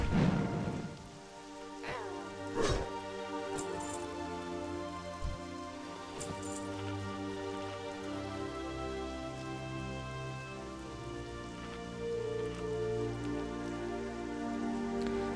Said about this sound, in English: It has been raining the entire morning.